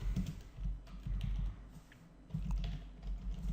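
Soft, quick keystrokes on a computer keyboard as code is entered, irregular bursts of tapping with brief pauses, quiet and close with no talk.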